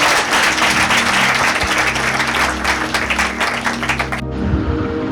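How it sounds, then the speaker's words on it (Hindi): A church congregation applauds loudly and steadily for several seconds at a Hindi-language sermon, the clapping dense and close before stopping abruptly near the end. "एक जोरदार ताली परमेश्वर के वचन के लिए बजाना।"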